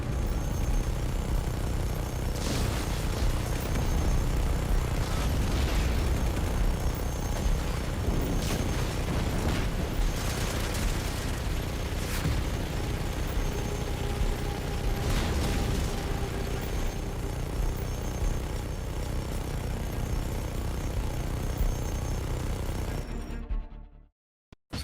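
Minigun fire and explosions in Just Cause 3 during an assault on an enemy base, a dense, continuous roar of shooting and repeated booming blasts, loud throughout before cutting out at the end.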